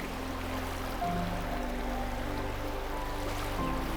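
Water of a remote mountain creek flowing over rocks, a steady close rushing and trickling wash with a low hum underneath, continuous and even.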